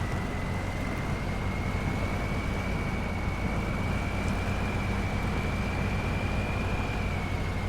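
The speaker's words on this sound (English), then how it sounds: "The engine does sound powerful" A truck engine in the Snowrunner video game, a loud continuous drone with a steady high whine running over it throughout, unbroken and with no talk.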